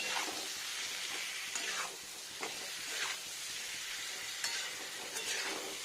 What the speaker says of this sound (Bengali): লবণটা মিশে যাওয়ার জন্য এখানে একটু কষাতে হবে মশলাটাকে